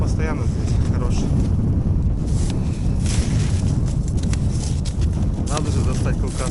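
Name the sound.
wind blowing at a fishing spot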